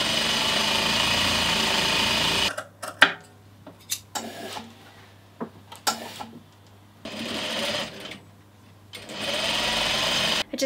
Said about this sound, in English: Now I'm just going to French seam the bottom portion of the pocket closed.